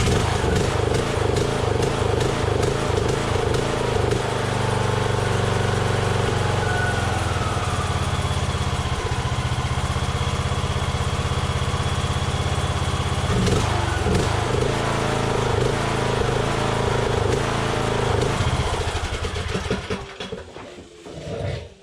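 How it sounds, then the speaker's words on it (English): Craftsman LT2000 lawn tractor engine running steadily after a carburetor repair, a loud, close, continuous droning rumble that holds for about twenty seconds before fading and sputtering near the end. "Let's see if it runs better now."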